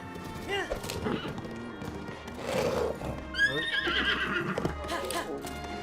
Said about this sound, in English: this is why we don't ride a horse